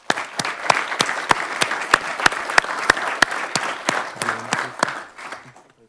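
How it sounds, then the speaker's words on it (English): An audience applauds at a city council meeting, a steady burst of clapping that carries for several seconds and then fades out at the end. "please give them a round of applause"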